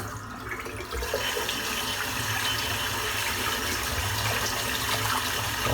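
Steady running water from a tap while a dense-knot 30mm cashmere shaving brush is rinsed of soap, a continuous broadband wash that swells slightly after the first second and holds level throughout.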